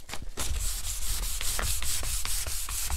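Quick, rhythmic strokes of 500-grit sandpaper rubbing across wood, a soft hissing scrape repeated back and forth at close range.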